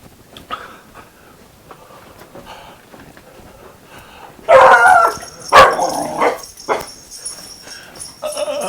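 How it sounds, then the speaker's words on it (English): A dog yips and whimpers faintly, then breaks into loud, close barks and howling bursts, with no people talking. "I'm so glad you all got to hear Iro bark at me"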